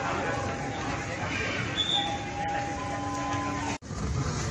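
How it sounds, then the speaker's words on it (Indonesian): A passenger train departing on the Jakarta to Surabaya route rumbles low and steady as it pulls away, with faint tonal whines from the wheels or motors and a brief sharp click near the end. "Ini kereta apinya baru berangkat, teman"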